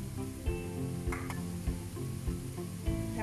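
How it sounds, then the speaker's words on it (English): Leeks going into a pan with soft cooked carrots, sizzling steadily over a low hum with a few clinks and taps of a utensil; no one talks. "And now I'm adding the leeks."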